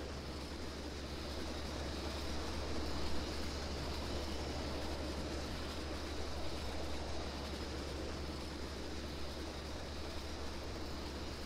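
Moving train in the tycoon game Transporter, a steady, even rumble and rolling hiss that holds at a constant level for the whole stretch, with no talk over it.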